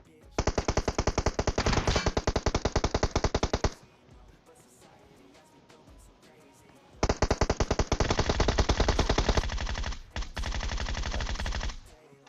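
Automatic gunfire in PUBG Mobile: long, rapid bursts of loud machine-gun fire, a pause of quieter game ambience, then more sustained bursts of shots, heard alone without talk.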